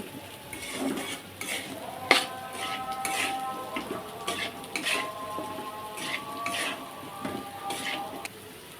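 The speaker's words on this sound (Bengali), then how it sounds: "পরিমাণে আদা বাটা সামান্য পরিমাণ রসুন বাটা দিয়ে এবার আমি কষিয়ে নিচ্ছি" Ginger and garlic paste being sautéed in a pan, a soft sizzle under repeated metal spatula scrapes and clinks against the pan, close and steady with no voices.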